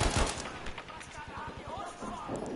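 Gunfire in Battlefield 5 multiplayer on PS4 Pro, with a loud burst of shots at the start, then rapid, quieter distant rattling under players' talk.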